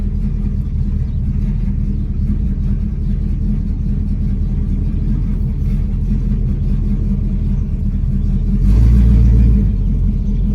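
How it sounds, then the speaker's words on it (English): A 1970 Pontiac LeMans idles with a steady low rumble, then pulls off in drive with a brief surge of engine noise near the end. "if I put it in drive and take off, like right there"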